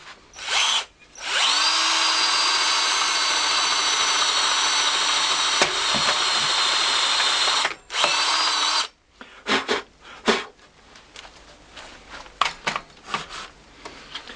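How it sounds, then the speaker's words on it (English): A power drill fitted with a 20mm flat bit bores a hole through wood, a loud close whine in two sustained runs with a brief pause between, followed by scattered clatter and handling knocks. "I've now drilled through so the washer fits in and the nut would fit flush"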